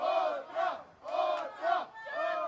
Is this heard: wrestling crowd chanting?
yes